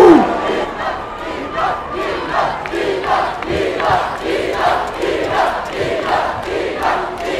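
At a tournament final, a large crowd chants and roars in a rhythmic, pulsing pattern, loud and sustained, each shout rising and falling in regular beats.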